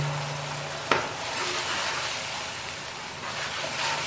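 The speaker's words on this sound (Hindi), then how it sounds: "और मसाला हम उस वक्त तक भूनेंगे जब तक इनका कच्चापन ख़त्म ना हो जाए और ये मसाला घी ना छोड़ दे।" Blended masala of onion, garlic, ginger and green chilli frying in hot ghee, a steady broadband sizzle with a brief clatter near the start, no voices.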